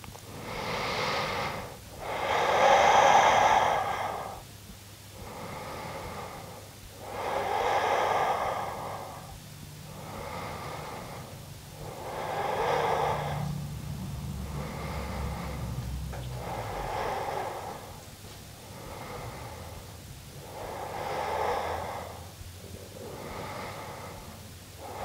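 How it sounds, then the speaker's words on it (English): Slow, deep breaths during a relaxing yoga rest: about nine long inhale-exhale cycles, each a soft airy swell followed by a gentle sigh-like release, close and alone with no talk. "let's just take a couple of deep breaths here"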